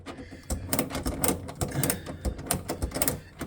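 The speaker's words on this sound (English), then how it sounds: "we're going to tighten these little nuts up with our 3/8 wrench" Small nuts on a Polaris Ranger 1000 RotoKAP cover are tightened with a 3/8 wrench, giving quick irregular metallic clicks and ratcheting ticks close up, fairly quiet and bunched in short bursts.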